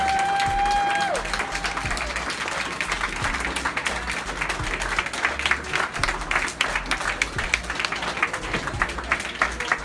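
Crowd at an airport gate cheering and clapping for an arriving Medal of Honor recipient, steady dense applause throughout, moderately loud, with a brief tone at the start and scattered voices mixed in.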